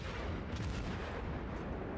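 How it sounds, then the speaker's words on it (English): Warship guns fire HE shells in World of Warships, a sustained, loud barrage of booming naval gunfire with rolling low rumble and a few sharper cracks. "I don't think I can penetrate the armor, so I will keep firing HE."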